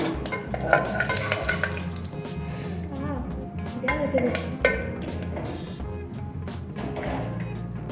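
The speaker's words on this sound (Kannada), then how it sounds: "ಚೆನ್ನಾಗಿ ಫ್ರೈ ಮಾಡ್ಕೊಳ್ಳಿ" Spices including cloves and peanuts frying for pulao in a pan, a low sizzle with stirring scrapes and a few knocks of the spoon, heard under a person talking.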